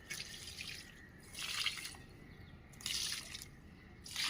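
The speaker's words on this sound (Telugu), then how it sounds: "కిచెన్ వేస్ట్ వాటర్ ఇద్దాం." Kitchen waste water is poured from a vessel onto a small potted marjoram plant, giving three faint, soft splashing bursts separated by quiet pauses.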